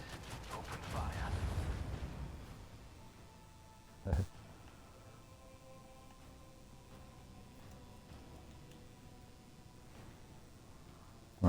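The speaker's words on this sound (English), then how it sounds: "Macro cannons. Open fire." Macro cannon broadside fires during voidship combat in the Rogue Trader video game: a loud rumbling barrage in the opening two seconds, then a sharp blast near four seconds and another at the very end, over a low steady hum.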